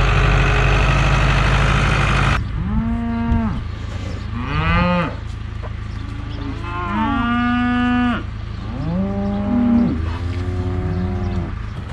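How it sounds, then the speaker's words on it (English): Cattle grazing in a frozen winter field moo loudly and close, several long drawn-out calls one after another, over a low idling engine hum. "So I got the cows back out grazing in the field."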